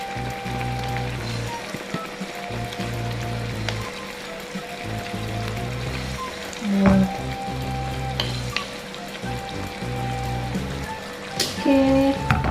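Chili is stirred into a dish frying in a pan, giving a steady sizzle with scraping stirs and a few louder clatters near the end.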